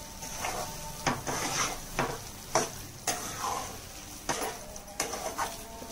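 Coconut and jaggery laddu mixture stirred in a pan with cardamom powder, a ladle scraping and clacking against the metal in repeated strokes about once a second over a faint sizzle.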